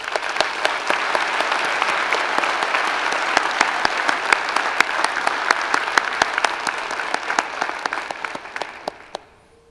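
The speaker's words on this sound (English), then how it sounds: "a round of applause, ladies and gentlemen, please, for our award winners" A convocation audience applauds award winners, a broad sustained roar of many clapping hands with a few sharp nearby claps standing out, tapering off at the end.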